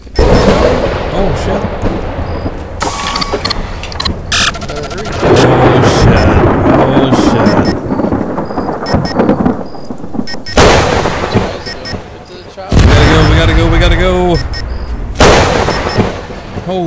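Thunder crashes and lightning strikes in the military game Arma 3 during a helicopter evacuation, with loud booming bursts mixed with gunfire-like blasts and dense battle noise, and voices talking between the impacts.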